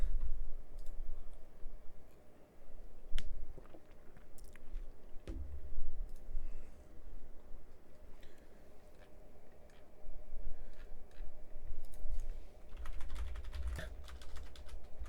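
Someone types a password on a computer keyboard: a steady stream of light, close keystroke clicks with uneven rhythm for about fifteen seconds, fairly quiet and with no voices.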